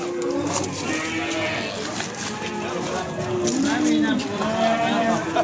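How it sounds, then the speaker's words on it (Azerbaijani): At a livestock market in Beyləqan, young bull calves and other cattle moo several times, some long and drawn out, amid a busy crowd murmur, with people talking nearby. "bax belə saxlanca gedən erkək danalar var qardaş"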